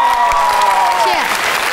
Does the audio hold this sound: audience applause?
yes